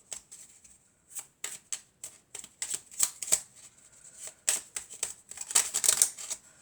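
Oracle cards are handled and shuffled close by, making a string of soft papery flicks and riffles in irregular bursts separated by short pauses. It stays quiet and no one speaks.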